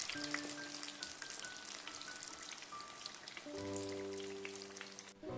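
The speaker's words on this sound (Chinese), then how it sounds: "馄饨皮比较薄，不要炸太长的时间，全程大约炸3分钟左右，炸至外皮金黄酥脆就可以了" Spring rolls wrapped in thin wonton skins frying in hot oil, a steady close crackling sizzle with scattered pops, while faint background music tones run underneath throughout.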